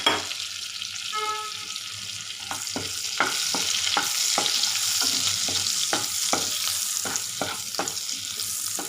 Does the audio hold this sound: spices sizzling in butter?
yes